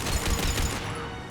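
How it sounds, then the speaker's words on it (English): Enemy gunfire in Mass Effect 3, a dense, continuous volley of rapid shots that stays loud throughout and eases slightly toward the end, with no talking. "Are they just straight up shooting me through all the walls and shit?"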